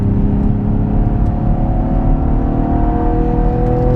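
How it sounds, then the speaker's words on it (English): A 2016 Cadillac ATS-V Coupe on a race track, its engine droning loud and steady from inside the cabin at high revs, a rising whine running over a deep rumble with no talk. "we're going to try to give it as much revs as we can"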